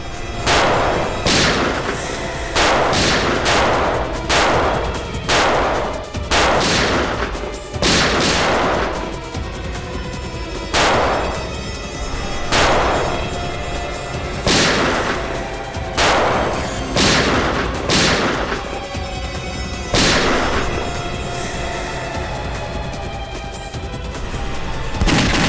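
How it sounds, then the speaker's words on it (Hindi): Gunshots and gunfire ring out in a Hindi TV crime drama from the CID series, a long barrage of loud, sharp reports in irregular bursts with echoing booms, continuing for the full length. "गोली चला।"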